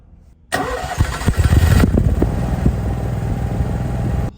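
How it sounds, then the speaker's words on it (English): An RV generator on a Fleetwood Bounder motorhome cranks to life and settles into a steady, loud engine drone that runs continuously with no talk. "We're gonna let the generator run for a while and see if that changes things."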